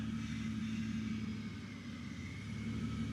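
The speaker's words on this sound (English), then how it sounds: "Pumps kicked on." A vehicle's air suspension compressor pump runs as a steady, close droning hum with a constant tonal whine. It holds evenly throughout, with no talking.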